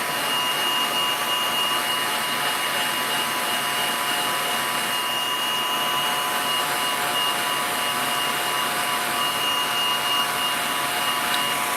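A hair dryer blows steadily and loudly at close range over wet acrylic paint on canvas, a continuous whirring rush that holds unchanged for the whole stretch with no talk.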